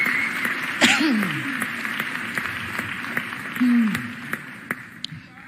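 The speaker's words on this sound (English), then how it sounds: "Please give them all a huge round of applause." An audience applauds at the mayor's State of the City address, a steady wash of clapping that carries through the few seconds while voices call out over it and the clapping swells briefly near the end.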